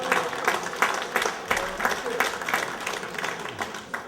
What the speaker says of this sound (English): Fathers, clap it up if you're a real father.